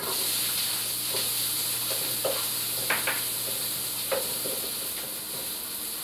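Onions go into a spice masala frying in a pan, bringing a steady sizzling hiss with a few scattered clinks and stirring scrapes, close and even throughout.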